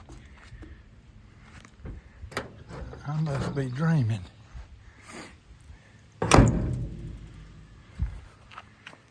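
A 1967 International Harvester 1100 pickup truck door shuts with a solid thunk after someone speaks, followed by a smaller knock; quiet background otherwise.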